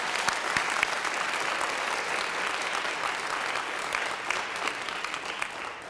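A steady wash of audience applause fills a Black History Month celebration hall, many hands clapping at an even level throughout with no voices standing out.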